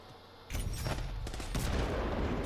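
An enemy turret firing in Titanfall 2, a sudden loud burst of rapid shots that keeps going as a dense, continuous barrage.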